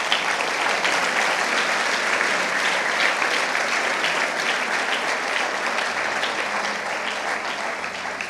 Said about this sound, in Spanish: Dale el aplauso al Señor.